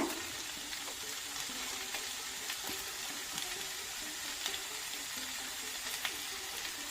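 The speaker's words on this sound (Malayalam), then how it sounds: "ഇനി നമ്മൾ ടൊമാറ്റോ സോസ് ഒഴിച്ചു കൊടുക്കേ" Tomato sauce going into a frying pan of cauliflower gravy, heard as a steady close sizzle and bubbling with faint stirring, no talk.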